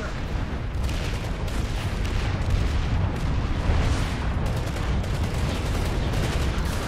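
Gunfire in the PlanetSide 2 video game, a dense unbroken barrage of overlapping shots and booms that stays loud and close the whole time.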